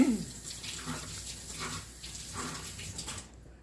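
A kitchen knife is rinsed under a running tap, a steady, soft splashing rush of water heard up close for a few seconds before it cuts off.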